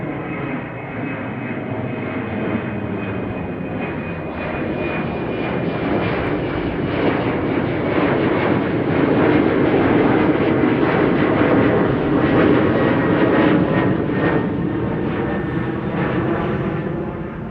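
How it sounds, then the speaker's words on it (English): KLM jet airliner climbing out of Amsterdam Schiphol Airport toward Gdansk, a loud, sustained engine roar with a faint high whine, steady and building slightly as it passes nearly overhead. "KLM flight 1305 to Gdansk in Poland, already airborne, climbing up."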